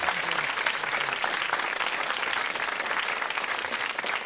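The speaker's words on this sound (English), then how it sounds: "Give them a big round of applause, please." A studio audience at the 1992 quiz show Blockbusters gives a loud, dense, sustained round of applause with no talk over it.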